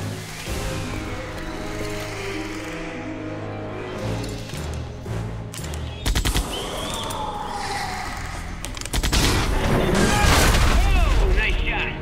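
Gunfire in Jurassic Park: The Game, a few sharp bursts and booms breaking through a busy scene of music and effects, with voices talking over parts of it.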